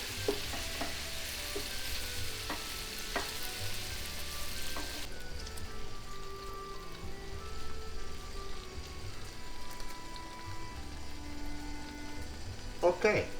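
Shrimp fry and sizzle in an oiled pan over a raised gas flame, with a steady hiss that softens partway through and a few clinks near the end.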